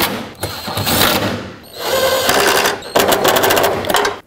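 A power tool drives in the mounting bolts on the wiper transmission of a 2009-2014 Honda Fit, making loud close whirring bursts with short pauses between them.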